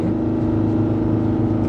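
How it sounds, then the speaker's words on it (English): A 2025 Ram HD pickup with a Cummins diesel engine drones steadily under engine braking, a constant low rumble heard from inside the cab. "you can actually kind of hear engine braking"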